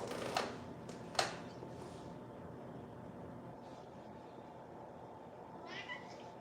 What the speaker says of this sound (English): You can hear Kitty. Well, she's a 23-pound cat